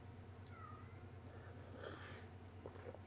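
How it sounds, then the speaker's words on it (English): A house cat meows a few times, faint and distant, over a steady low hum of background noise in a room during a live stream. "my cat is asking to be let out."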